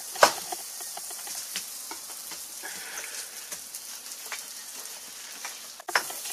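Rice sizzles steadily in butter and oil for a chicken risotto, a constant crackling fry with a few sharp scrapes of stirring near the start and end.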